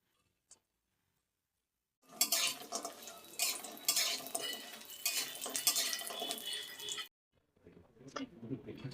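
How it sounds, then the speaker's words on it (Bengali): Bori lentil dumplings frying in oil in a kadai, with a burst of sizzling and clattering stirring for about five seconds after a quiet start, then brief softer scraping. "দিয়ে এই বড়িটা লাল লাল করে ভেজে নেব।"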